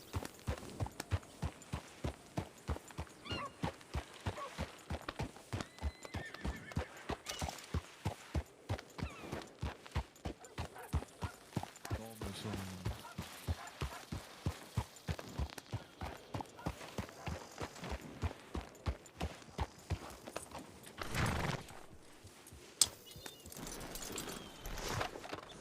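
Steady, rhythmic clip-clop of horse hooves in a video game, a long run of evenly spaced footfalls at moderate volume, with no clear whinny standing out.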